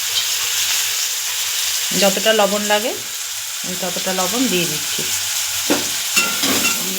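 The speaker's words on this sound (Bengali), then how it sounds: "একটু নেড়ে লাল লাল করে ভেজে নেব।" Chopped onions and boal fish fry and get stirred in a hot pan, a steady sizzle with scraping stir strokes running throughout while someone talks over it.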